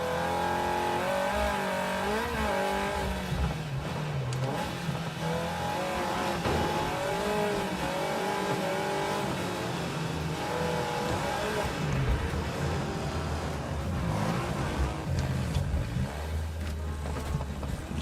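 Race car engines roar in the demolition racing game Wreckfest 2, a loud continuous drone of revving motors rising and falling in pitch throughout, with layered engine whine from several cars at once.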